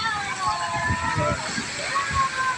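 Water spurting and sloshing at a beach with children and bathers nearby, a steady broadband wash with irregular splashes close by, under continuous crowd noise and talk.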